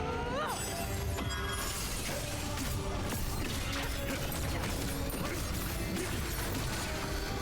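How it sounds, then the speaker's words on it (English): Explosions and crashing impacts from a video game boss fight against a valkyrie princess, including a secondary blast, fill the clip with dense, loud, continuous clatter and debris-like crunches throughout. "Be careful for the secondary explosion."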